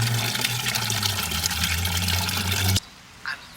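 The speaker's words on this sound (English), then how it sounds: "We need to fill up the watering can first," A watering can being filled for garden plants, with a loud, steady rush of water running for almost three seconds before cutting off abruptly, followed by a faint brief sound.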